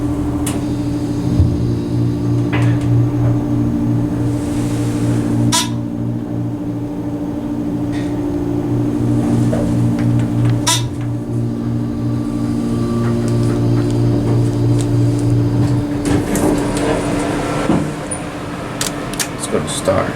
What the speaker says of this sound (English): Listen to that motor again.